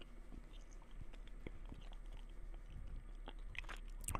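Close, quiet chewing of gum with moist smacks and small clicks scattered irregularly, intimate and soft against a faint hiss.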